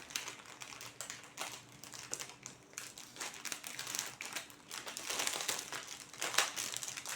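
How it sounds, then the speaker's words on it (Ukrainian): A factory-sealed plastic packet from a craft kit is torn and opened by hand, giving close, continuous crinkling and rustling with sharp crackles that build toward the end, with no talking. "Так, ось такий запаяний кульочок. Так, ми з вами відкриємо."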